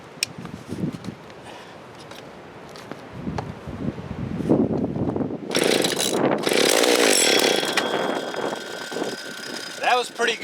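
A McCulloch Timber Bear chainsaw fires up on its first start after reassembly, a loud rough engine roar with high whine that follows some quieter handling and voices nearby.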